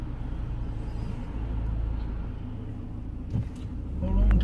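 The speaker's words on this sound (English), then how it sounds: "as you can see, there's a ton of traffic" Road traffic with passing cars, a continuous low rumble of engines and tires that swells as a vehicle goes by near the end, with voices talking over it.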